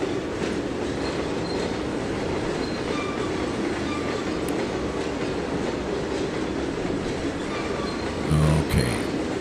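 A train rolls along the rails in the Trainz 2022 simulator, a steady low rumble with faint rhythmic clatter held at an even level, then a short louder thump and squeal near the end.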